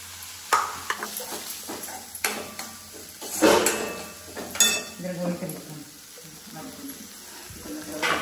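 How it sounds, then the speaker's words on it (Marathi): A spoon scrapes and clinks around a pan of cashew curry on a Konkan home stove, with soft sizzling beneath irregular stirring strokes and a few louder knocks against the metal. "मला ढवळायचं काम दिलंय आता."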